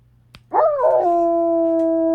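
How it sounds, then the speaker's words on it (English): A dog sound effect: a brief yip, then a loud, close, sustained howl that bends in pitch before settling into a long steady tone, heard alone without talk. "I turn you into a dog."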